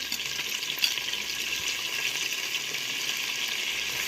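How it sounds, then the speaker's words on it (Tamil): Mint, coriander and curry leaves with green chilies fry in hot oil, giving a steady, close crackling sizzle with faint stirring and no voices. "இது கூட வந்து புதினா கொத்தமல்லி கருவேப்பிலை ஆயிலே சேர்த்துட போகிறோம்."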